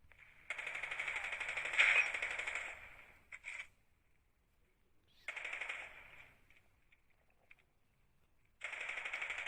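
A weapon in a video game firing in rapid automatic bursts, three long fairly loud stretches of rattling fire separated by short quiet gaps and a few brief shots, with no talk.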